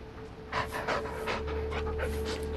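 A dog pants in rapid, steady breaths in the Blair Witch video game, close and clear over a low background hum, with no talking.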